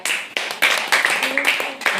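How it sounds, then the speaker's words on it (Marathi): Children in a classroom clapping for a classmate, a run of sharp, uneven hand claps that come in short bursts, with a voice talking over them. "चला धनश्री बद्दल टाळ्या"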